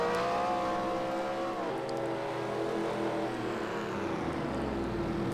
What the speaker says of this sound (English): the rest of the cars pulling off of pit road